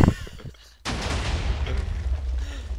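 Minecraft TNT cannon explosion bursts in loud and sudden after a brief lull, followed by a sustained broadband roar of blast and rumble that stays dense to the end.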